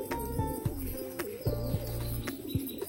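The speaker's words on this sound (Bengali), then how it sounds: "এই যে দেখো এগুলো কিন্তু বন্ধুরা বুনো পায়রা আর কি" Wild pigeons coo while feeding on scattered grain, their low, rounded calls repeating in short, uneven bursts close by, with some fainter chirps mixed in.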